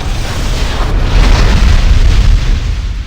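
Massive assault armor energy blast from a mech in Armored Core: for Answer, a sustained loud booming roar with heavy low rumble that swells around the one-second mark and holds steady to the end.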